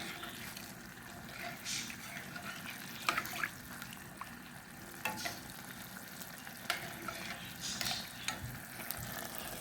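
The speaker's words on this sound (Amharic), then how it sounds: "እዚህ ጋር ዶሮአችን እየበሰለ ነው" Chicken cooking in a pan of oil for an Ethiopian meal, a steady close sizzle and bubbling with occasional clinks and stirring scrapes of a utensil against the pan.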